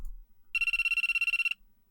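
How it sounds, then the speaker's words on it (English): A phone rings in the video game Meteor World Actor, a single burst of rapid electronic trilling tones lasting about a second, clear and close against near silence. "My phone rings."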